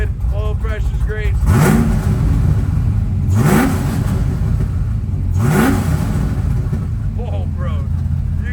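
Fox-body drift car engine revving in three strong, evenly spaced bursts that climb and fall back to a rough idle, close and loud, with speech at the start and end.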